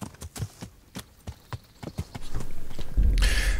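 Horse hoofbeats while riding in the medieval role-playing game Kingdom Come Deliverance: a steady, rhythmic clip-clop of hooves, close and clear, which gives way at the end to a louder rushing, windy noise.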